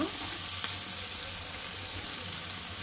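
Okra frying in a pan with ginger-garlic paste for a boondi fry, a steady close sizzle and crackle running continuously at even loudness, with no voices.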